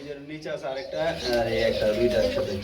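Pigeons coo repeatedly at a pigeon seller's stock, their soft rolling calls close by and mixed with people talking over them throughout.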